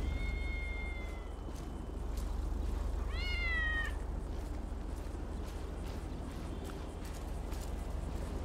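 A cat meows in GTA 5, two short rising cries heard early and a louder, longer one a few seconds later, over a steady low background hum.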